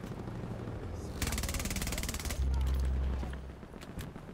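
Rapid automatic gunfire in the video game Battlefield 2042 rattles loudly in a sustained burst, with heavy low engine rumble from vehicles beneath it and continuous game noise throughout.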